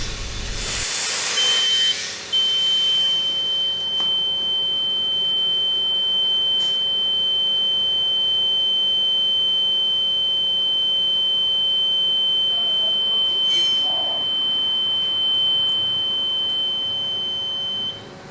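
A steady high-pitched electronic oil mist detector alarm sounds continuously after a brief burst of noise, with faint clicks and mechanical hum in the background.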